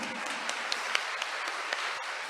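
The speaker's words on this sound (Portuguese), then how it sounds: "Merece a mãe e o menino uma salva de palmas?" Church congregation giving a round of applause during a Sunday Mass homily, steady dense clapping filling the room at moderate volume with a few sharper individual claps.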